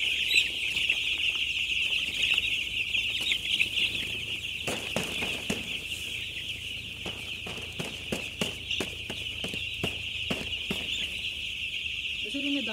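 Broiler chicks and chickens in a cold-season poultry shed cluck and cheep continuously, a dense high chorus with scattered sharp clucks and wing flaps, moderately loud and close, no voices over it.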